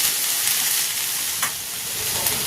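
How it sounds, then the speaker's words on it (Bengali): Ivy gourd (kundru), potato and onion frying uncovered in a pan, giving a steady, dense sizzle and hiss with faint stirring scrapes throughout, no voices. "কুঁদরি আলু পেঁয়াজটা ভালো করে ভাজা হয়ে গেছে।"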